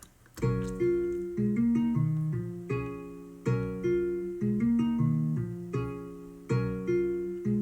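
A looping synth chord progression with a steady bass line underneath, repeating in bright, evenly spaced stabs at a moderate tempo, no voices.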